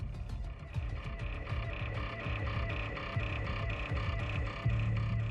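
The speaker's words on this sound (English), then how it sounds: "Are they frogs? That's supposed to be frogs." Chorus of frogs croaking continuously at an Australian farmhouse, dense overlapping low throbbing calls with a steady pulsing rhythm, fairly loud and close, with no talking.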